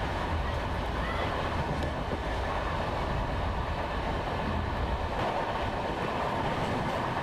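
The Digha–Howrah Super AC Express running along the track on a curve, a steady loud rumble of wheels and carriage heard from inside the train, continuous with faint clatter.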